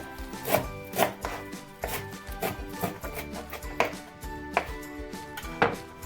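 Steady knife chops through potatoes thud on a board, about one cut every half second, with soft music in the background.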